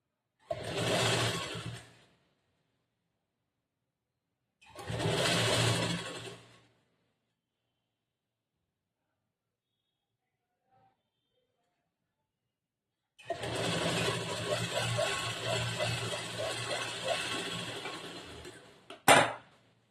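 A sewing machine stitching a back-hook blouse in a tailoring class runs in short bursts: two brief whirring runs, a long pause, then a longer steady stitching run ending with a sharp click.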